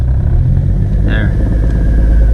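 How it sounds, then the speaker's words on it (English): A Nissan R32 GTR engine idles low and steady after an ECU swap, a continuous close rumble throughout with a brief higher tone midway. "That is the lowest that the idle will go."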